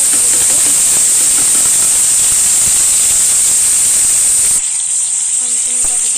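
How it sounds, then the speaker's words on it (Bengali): Thankuni leaf paste hits onions fried until red in a pan and sets off a loud, steady, hissing sizzle with a burst of steam, which drops to a quieter simmer near the end. "লাল লাল করে পেঁয়াজটা ভেজে নিয়েছি। এবার থানকুনি পাতা বাটাটা দিয়ে দেব।"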